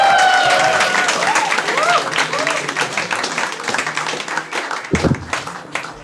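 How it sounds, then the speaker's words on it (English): Audience applause at a stand-up comedy show in India: a burst of clapping and cheering that thins out over a few seconds, with a host's voice over it at the start. "Come on, make some noise, start applauding."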